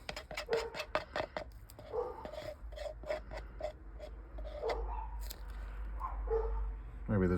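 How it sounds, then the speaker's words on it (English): Several neighbourhood dogs bark and yip in quick irregular bursts at a distance, over a steady low rumble, with the barking thinning out toward the end. "immediately their dogs just started howling"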